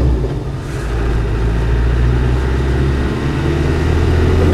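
A Land Rover 110 with a turbocharged 200Tdi diesel engine pulls along under acceleration, its loud, steady, low engine drone heard close from inside the cab with road rumble beneath.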